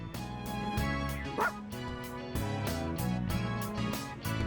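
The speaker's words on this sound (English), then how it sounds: "Be nice to the puppy." Puppy barks and yips from the video game Persona 3 Reload, several short bright yaps over a steady layer of game music throughout.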